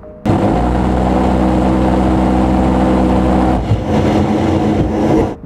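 An A-10 attack aircraft's gun fire, a loud sustained buzzing roar with a steady rumbling drone, briefly easing then returning before cutting off.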